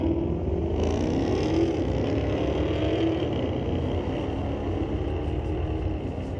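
A 2019 Dodge Challenger with a 392 Hemi roars down a drag strip at a street-legal race night, a loud sustained engine rush that eases slightly toward the end, with no voices.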